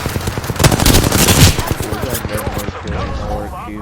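Rapid automatic gunfire in Apex Legends, loud and close, a dense burst of shots that then fades out into quieter game sounds.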